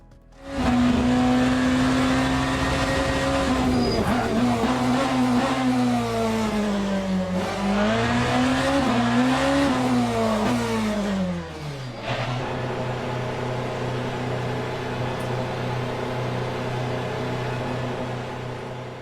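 A BMW M Hybrid hypercar lapping Sebring in the racing game Le Mans Ultimate, its loud engine whine rising and falling through gear changes and braking, then steadying into a sustained drone with no talk.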